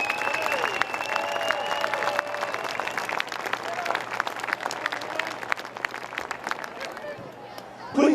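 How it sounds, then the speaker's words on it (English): Crowd at a high school football game applauds seniors and their parents leaving the track, sustained clapping with scattered cheers and a whistle-like tone, moderately close. "Please give a huge round of applause as these seniors and their parents now exit the track"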